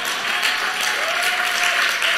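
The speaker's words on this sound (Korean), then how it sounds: "박수 쳐 빨리." A church congregation at a Friday prayer service breaks into applause, a dense, sustained clatter of many hands clapping together at close range.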